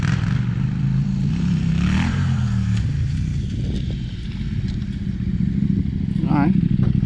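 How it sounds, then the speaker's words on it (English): A dual sport motorcycle rides around a dirt-bike area at Washer Valley, its engine a continuous rough drone from middle distance that swells slightly toward the end, with faint clatter mixed in. "Got a dual sport out here riding around again."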